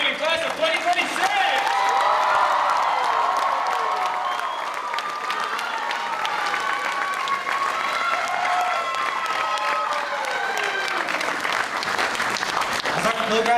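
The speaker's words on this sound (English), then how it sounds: "Let's give one more huge round of applause to Christine Sully and the graduating class of 2026!" Sustained applause and scattered cheers from a crowd honoring the graduating class of 2026 at a Filipinx graduation commencement ceremony, loud and continuous from start to finish, while a voice speaks over the clapping.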